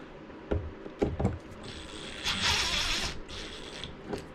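Screws are driven in by hand into an RV's air-conditioning fitting, giving a few sharp knocks followed by a sustained ratcheting, whirring drive that stops and restarts, close up with no talk.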